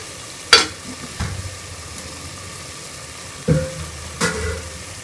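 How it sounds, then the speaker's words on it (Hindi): Ghee sizzles in a pot of cooked beef for a dal gosht, a low steady frying hiss broken by a few sharp clanks and scrapes of a spoon against the pot. "पहले मैं 2 चम्मच इसके अंदर घी के डालूंगी।"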